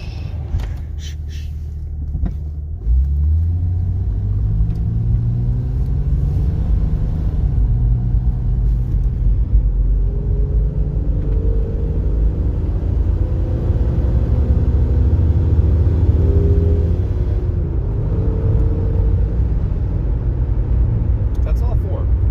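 A 2WD Jeep Cherokee XJ accelerates through its gears, heard from inside the cabin as a loud engine drone whose pitch climbs and drops with each shift. People talk over it.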